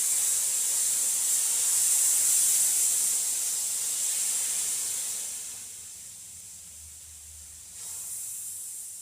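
Dosa batter poured onto a hot griddle sends up a loud, steady sizzling hiss that gradually quiets over several seconds and then swells briefly near the end, with no talking.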